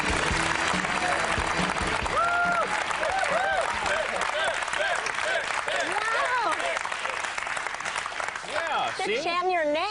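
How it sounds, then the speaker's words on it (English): Applause from a studio audience on a comedy talk show, mixed with loud voices and tonal sounds that sweep up and down, the clapping running continuously underneath throughout. "See, they applaud and they don't even know who I am."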